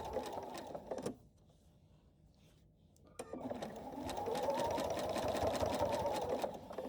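A sewing machine stitches binding onto a quilt, its fast mechanical whir running close and steady, pausing for about two seconds before resuming and continuing to the end.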